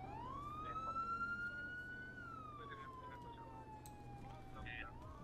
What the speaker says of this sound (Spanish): Viene una ambulancia.